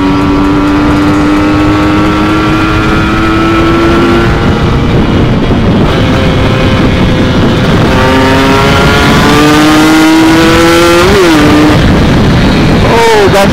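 A motorcycle engine fitted with a TM34 carburetor runs loud and close, idling steadily before being gently revved in gradual rises and falls, with a brief sharper blip near the end.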